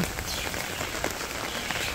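Steady rain pours onto a surface in a rural Bangladeshi setting, a dense, even hiss of drops with no breaks, close and fairly loud, with no voices.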